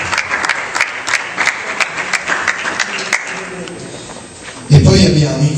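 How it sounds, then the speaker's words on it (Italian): An audience at a short film festival awards event claps steadily for several seconds, the applause sounding somewhat distant, before a voice begins speaking over it near the end. "Facciamo un applauso a Massimo."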